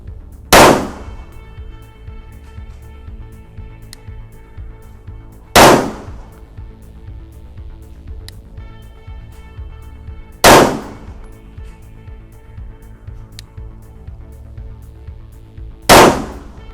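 A Dicken Drill gun fired at a target about eight to ten meters away, four loud sharp shots spaced roughly five seconds apart, with faint clicks and clatter between them.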